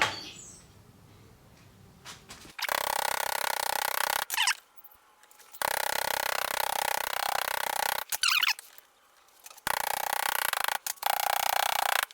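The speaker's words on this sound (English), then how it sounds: "let's keep on tapping and keep rotating it, and be careful not to make it move" A thread-cutting tap is turned and worked by hand into a block of timber for a scratch-built Porsche 356 oil filler cap, making loud bursts of squeaky, grinding friction that alternate with brief quiet pauses.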